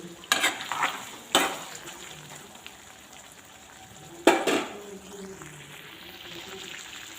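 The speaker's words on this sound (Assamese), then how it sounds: "ল' এণ্ড মিডিয়াম ফ্লেমত মাংসখিনি এতিয়া সিজিবলৈ দিম" Meat simmering in a pan over a low-medium flame for a curry, with a soft, steady sizzle broken by three brisk scraping stirs of a utensil against the pan.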